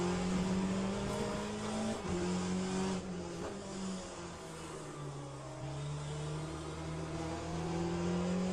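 An LMP2 prototype race car in the Le Mans Ultimate sim is held at full throttle, its engine a loud, steady, close drone. The pitch climbs, then drops with each gear shift, and a faint tire hiss sits under it.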